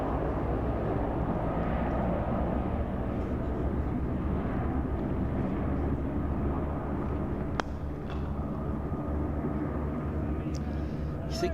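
Coast Guard aircraft passing overhead near a cricket ground, a steady broad engine roar at moderate distance that holds constant, with a couple of sharp faint clicks near the end.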